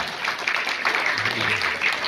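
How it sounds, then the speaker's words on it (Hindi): An audience at a program in a restaurant breaks into steady clapping, a dense patter of many hands lasting throughout with a faint voice underneath. "तालियां तालियां जोरदार"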